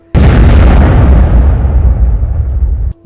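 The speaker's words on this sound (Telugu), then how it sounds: "ఒక్కసారిగా అక్కడ పెద్ద బాంబు పేలింది గొప్ప విస్ఫోటనం అయింది" A big bomb blast in a dramatized Telugu story erupts suddenly as one loud, deep boom, then rumbles on heavily for nearly three seconds before cutting off, with no voices over it.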